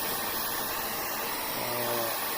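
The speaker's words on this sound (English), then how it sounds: "Now I am using bit dryer because I have completed my first layer of painting" A hair dryer blows over a freshly painted first layer of a watercolor painting, a steady close broadband rush that holds throughout with no talk.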